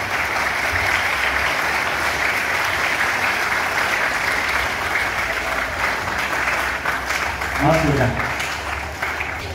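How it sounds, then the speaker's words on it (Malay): Applause at a secondary school assembly in Malaysia, a steady wash of clapping from a crowd of students that holds at a constant level, with a voice speaking briefly near the end. "bagi tepukan pada semua yang ada dan lewat kita sekarang"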